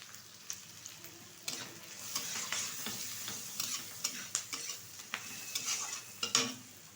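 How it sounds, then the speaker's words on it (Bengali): Onions stirred in hot oil with turmeric while cooking a crab dish, a steady sizzle with repeated scraping and stirring clicks throughout, close and fairly quiet. "তো পেঁয়াজটা ভালোভাবে একটু নেড়ে চেড়ে নেবো।"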